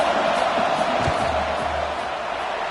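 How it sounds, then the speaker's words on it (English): Loud, sustained roar of a college football stadium crowd, Hawaii versus UCLA, as the field goal unit lines up for a fourth-down kick, a steady wall of noise. "This crowd trying to do its part to get inside the kicker's head."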